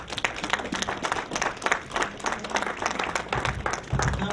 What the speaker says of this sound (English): Let's clap for the children as they are going to their home.